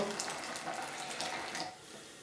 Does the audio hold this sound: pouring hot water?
yes